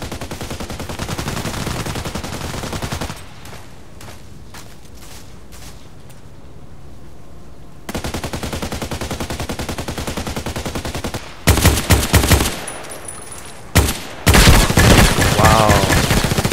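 Rapid bursts of automatic rifle fire from the online shooter Contract Wars, with a H&K 416c and an RPK-74 in use, loud and close, broken by short quiet gaps and ending in heavy sustained volleys.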